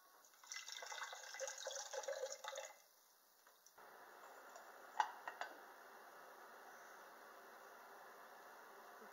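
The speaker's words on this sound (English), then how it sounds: "Add a little water." Water pours into a roasting pan holding leftover wood ash, a short splashing fill that stops, followed by faint trickles and a few small drips.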